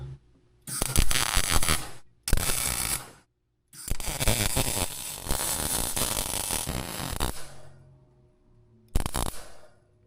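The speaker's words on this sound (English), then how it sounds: "I'm going to try to weld this in place without taking off the pump" A welder joins a part in place on an off-road Jaguar in a workshop, working around the pump without removing it: several loud, crackling bursts of a few seconds each, split by short silent pauses.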